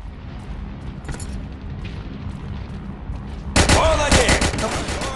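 Rifle fire from the World War Heroes team deathmatch hits hard and close near the end after a stretch of distant shooting, with a voice talking over part of it.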